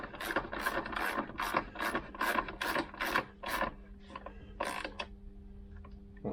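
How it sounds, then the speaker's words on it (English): A small ratchet tightening 13mm nuts on a Vespa PX engine: a steady series of about ten close, crisp clicking ratchet strokes, then a pause and a couple of final clicks, with no talking. "I've decided to use a little ratchet, and you only want these hand tight really."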